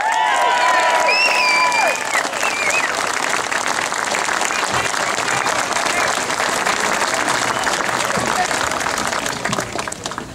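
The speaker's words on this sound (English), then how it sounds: "let's have another round of applause and bring him up" A rally crowd applauds and cheers to welcome General SRAO at an event defending the Jolicoeur Monument, with loud, sustained clapping, whistles near the start and voices shouting throughout.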